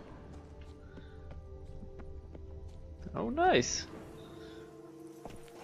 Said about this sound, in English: The horse went to drink some water.